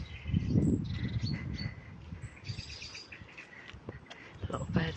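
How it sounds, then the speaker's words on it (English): Birds chirp and tweet intermittently in the background, with faint insect buzzing and soft outdoor ambience. "A lot of birdsong, it's lovely."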